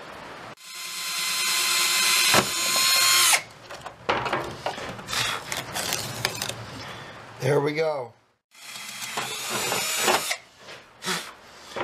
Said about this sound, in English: Now I just drill holes there and there that are just big enough for this.